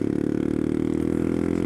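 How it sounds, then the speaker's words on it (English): A motorbike fitted with a new loud aftermarket exhaust and new air intake, its engine throbbing steadily with a deep, rumbling harmonic drone held close and loud for under two seconds. "What I've actually done to this bike is obviously new exhaust. You can hear it. It's bloody loud."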